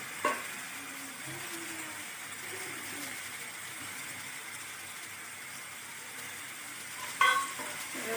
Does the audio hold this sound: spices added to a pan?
yes